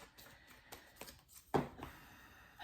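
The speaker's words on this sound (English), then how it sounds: "One more shuffle." A deck of cards being shuffled close by in a quiet room, soft riffling taps building to one sharp, louder riffle burst midway, then fading.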